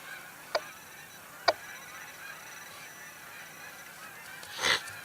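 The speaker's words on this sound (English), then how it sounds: "you can hear the flock of geese coming" A flock of geese honks far off outdoors in Canada in December, sending two brief calls and then a longer cluster near the end over a quiet background.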